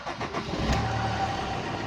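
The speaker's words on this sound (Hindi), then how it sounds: "गाड़ी चालू करता हूँ" A car's engine cranks and catches, settling into a steady mid-pitched idle close by, with brief starter noise at the start and no talk.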